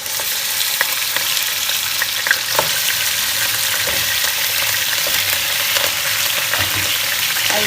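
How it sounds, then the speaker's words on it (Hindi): One kilogram of mutton frying in hot oil for korma, a loud continuous sizzle with occasional clicks of stirring, close to the pan and with no voices. "इसको अच्छी तरह हम ऑयल के अंदर भूनेंगे जब तक इसका कलर चेंज ना हो जाए"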